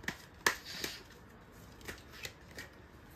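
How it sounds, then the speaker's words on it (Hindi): Tarot cards are shuffled by hand in a quiet room, a few soft, crisp riffling snaps spaced irregularly across the moment, faint overall with no talking. "और एक दो कार्ड शफल करते हैं"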